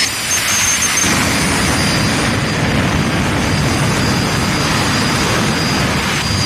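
Jet funny car built from Army surplus jet engines roars steadily and loudly at a drag strip, a continuous dense turbine rumble with a high whine running throughout, flame shooting from the tail.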